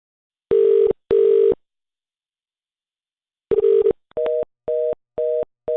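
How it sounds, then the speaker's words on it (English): A ringing tone on a Telstra phone line while waiting on hold: two loud, clean double-burst rings, a silent pause, another burst, then a quick run of short, evenly spaced beeps. "When you ask for a supervisor, you get a ringtone."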